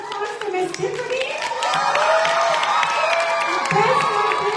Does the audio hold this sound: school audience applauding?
yes